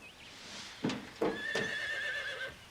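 A horse lets out a loud, shrill whinny that rises and trails off, preceded by a few snorts and soft hoof sounds nearby.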